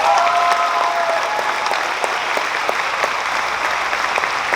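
Sustained applause from an audience at a graduation ceremony, a dense steady clapping that stays loud and even throughout, with no talk over it.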